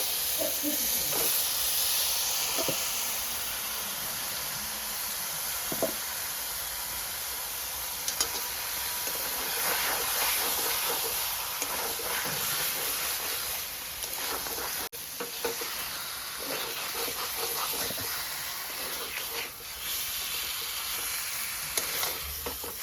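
Chicken pieces for chicken kosa sizzle and fry in a pan, with steady loud hissing and occasional stirring scrapes throughout, no talking.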